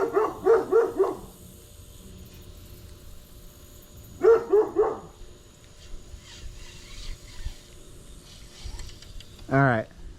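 Labrador barking outdoors beside a lake during bass fishing, two quick bursts of several barks each, then a short whine near the end over faint background.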